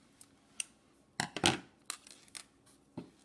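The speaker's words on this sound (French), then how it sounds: "Vous pouvez couper votre fil." Scissors snip bracelet thread in a few short, close, quiet cuts, with light rustling between them.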